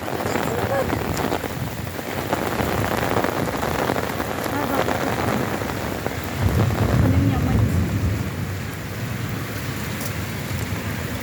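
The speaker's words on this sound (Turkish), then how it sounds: "Arkadaşlar yağmur bastırdı." Heavy rain hammers down in Antakya, Hatay, in a dense, constant roar, with a brief low rumble swelling midway; faint voice fragments sit beneath the downpour.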